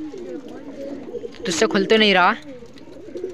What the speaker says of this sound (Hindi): ये जो कबूतर हैं यहाँ पे बैठ जाते हैं आधे कबूतर